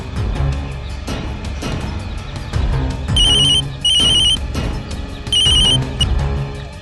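A telephone rings in a household during an attempted call, loud repeated electronic trills in separate bursts over a background of music.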